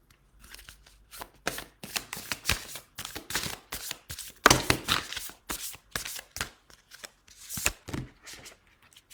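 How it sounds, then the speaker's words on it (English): Oracle cards from a Rose Oracle deck being shuffled by hand before one is drawn, a quick run of close, crisp riffling bursts and soft taps repeating in an irregular rhythm for several seconds. "So Crystal Cook, I'm going to pull a card for you."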